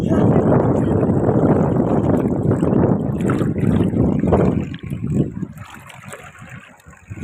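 Loud, continuous roar of water rushing through a dam close by, with wind buffeting the mic; it thins out toward the end, leaving fainter splashing.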